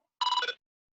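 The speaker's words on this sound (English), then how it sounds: "Somebody's phone's ringing." A phone rings once in a short, bright electronic trill, fairly faint and isolated against near silence during an online Zoom class.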